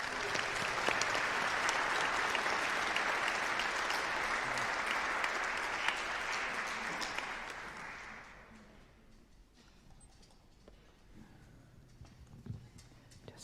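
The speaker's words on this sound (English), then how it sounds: "let's give her one more round of applause" An audience at a Tuba Christmas concert gives loud, sustained applause for the event organizer; the dense clapping runs about eight seconds, then fades to quiet room murmur with a few stray claps.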